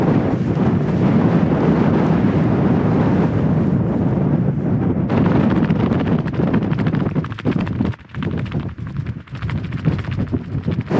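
Strong, bitterly cold wind blows across an exposed upland valley while wild camping. It is a loud, constant roar buffeting the microphone, with gusty dips and rumbles and no talking.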